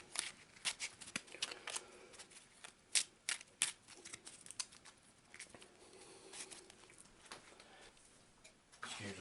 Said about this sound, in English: We'll just do a quick shuffle.